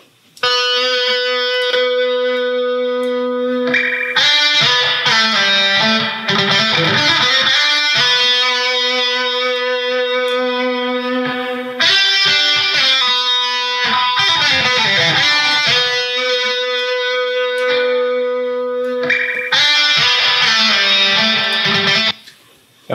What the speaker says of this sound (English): And then the reverb.